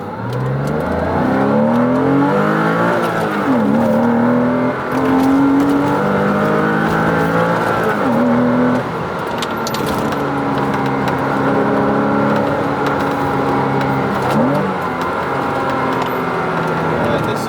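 A Porsche 986 Boxster engine with de-baffled intake revs up and down repeatedly, pitch climbing and dropping in waves, loud and close with a raspy intake growl.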